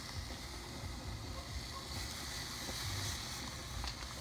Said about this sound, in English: So we're gonna sear them for about 2 minutes